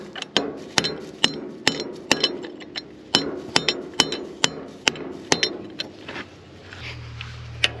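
A hammer striking a punch to drive out a bolt on a New Holland H6750 disc mower cutter bar, a series of sharp metallic blows in an irregular rhythm, loud and close.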